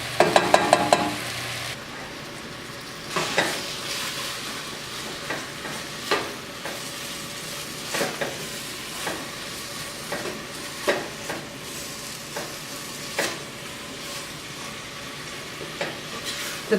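Granny Smith apples cook in butter and brown sugar in a pan, a steady soft sizzle broken by periodic stirring scrapes and light clinks every second or two.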